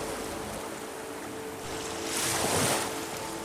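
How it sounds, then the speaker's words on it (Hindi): Waves wash in against rocks along a sandy shore, a steady rushing surf that swells to a louder crash near the middle before easing back, with faint wind noise throughout. "सिर्फ लहरों की आवाज़ है"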